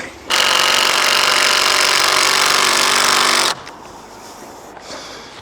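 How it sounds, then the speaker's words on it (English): A power tool whines loudly and steadily for about three seconds as screws are driven into the roof frame of a backyard koi pond, then cuts off to quieter handling noise. "So let me get some of these drilled in, get that end piece secured"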